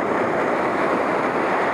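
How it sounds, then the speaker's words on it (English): Ocean surf breaking in a pocket of white water at sunrise on Kauai, a steady, loud broadband wash of churning water with wind across the microphone and no pauses. "A lot of white water, a lot of action."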